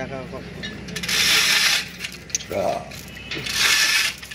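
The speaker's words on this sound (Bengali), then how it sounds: "খুব সুন্দরভাবে আমাদের মেশিন ট্র্যাকে উঠে যাচ্ছে চেন কপ্পার মাধ্যমে।" A chain pulley hoists a saw mill machine onto a truck, giving repeated ratcheting metallic clanks and rattles with swelling bursts of chain noise, fairly loud and close over outdoor background hum.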